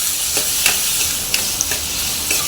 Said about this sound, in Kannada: ಇದನ್ನ ಫ್ರೈ ಆಗೋವರೆಗೂ ಹುರ್ಕೊಂಡು ಇದಕ್ಕೆ ಟೊಮೊಟೊ ಸೇರಿಸ್ಕೊಳ್ಳುವ.